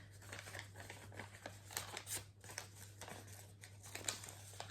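Close, crisp paper tearing and crinkling in several quick bursts, with short pauses between rips and a low steady hum underneath.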